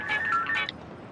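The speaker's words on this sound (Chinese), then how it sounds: "不用打了，电话来了。" A telephone ringing, a brief burst of electronic warbling tones that rises and chirps for under a second before fading into low background noise.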